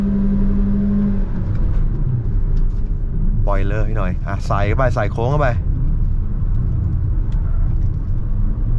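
MG VS HEV hybrid car driven hard in sport mode through a curve, its steady engine and road rumble running loud and constant while people talk excitedly over it.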